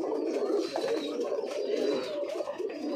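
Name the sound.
pigeons cooing in a loft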